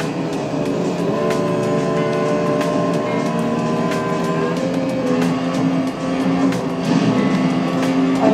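Racing video game car engine, played on a Redgear Pro wireless gamepad, drones steadily with rising and falling revs and a layered tonal whine throughout, continuous and fairly loud, with no talking.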